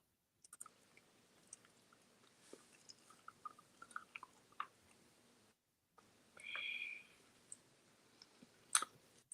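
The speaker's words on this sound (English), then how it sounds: "Having made some crunchy Cheetos right now, so that's why you kind of hear my bag." Quiet, close crunching and chewing of crunchy Cheetos with scattered small clicks and crackles, plus a brief rustling burst of the snack bag toward the end.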